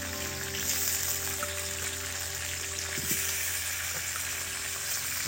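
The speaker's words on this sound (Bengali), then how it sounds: "এবার এই আলুগুলো বন্ধুরা এগুলো আমি ভেজে নেব" Potatoes frying in oil left from cooking mutton pieces, a steady close sizzle with occasional stirring knocks, even and continuous with a faint hum underneath.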